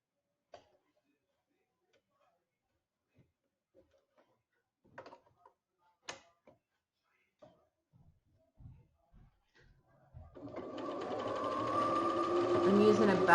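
A sewing machine stitching fabric for a medical mask: scattered quiet clicks and taps come first, then the motor whirs into a steady, close, continuous run for the final few seconds.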